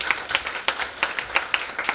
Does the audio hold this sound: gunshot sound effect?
no